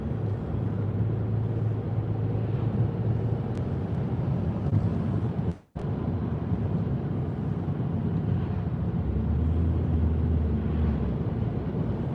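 A Ford Focus 2.0 TDCI automatic engine hums steadily at low pitch while driving uphill, with rushing road and wind noise, briefly cutting out midway before resuming.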